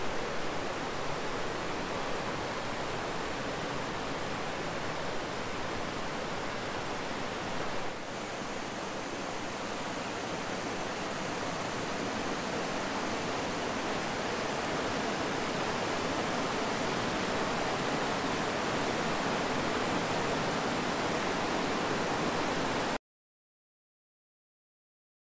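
The Menominee River rushes through its rocky gorge at Piers Gorge, a loud, steady roar of whitewater rapids that holds unbroken for about 23 seconds, then cuts to silence.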